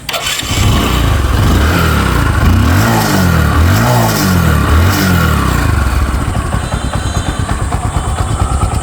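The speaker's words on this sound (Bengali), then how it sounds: "বাইকটার ইঞ্জিন কন্ডিশন দেখাবো সাউন্ড" A 2024 Bajaj Discover 125cc motorcycle engine starts and settles into a close, loud idle, with a few rising and falling revs partway through before running evenly.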